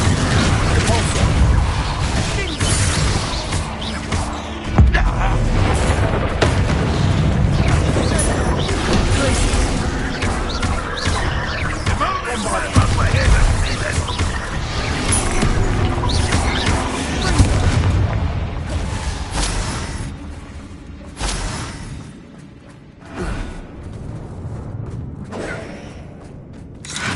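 Repulsor spell blasts in Hogwarts Legacy, heavy booming impacts with crashing, creaking debris and clattering mechanisms, loud and dense over a long stretch, with spoken voices mixed in among the blasts.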